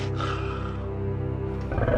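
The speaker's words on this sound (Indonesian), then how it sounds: "Terdengar geraman pelan dari seekor serigala" A wild wolf inside a cave gives a low, rumbling growl, sustained and close for about two seconds, deep and throaty with a slight rise at the end.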